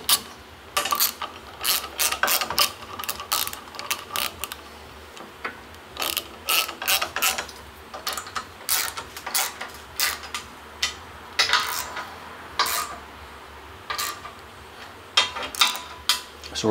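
Steel being bent in a clamped bending die for a Corvette C1 chassis, a run of sharp metallic clicks and clanks in irregular bursts, close and fairly loud with no talk.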